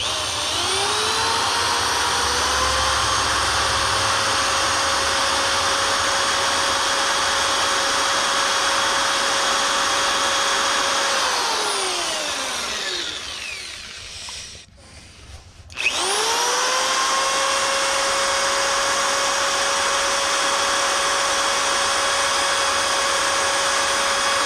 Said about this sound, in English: All right, bench grinder. That's taking too long.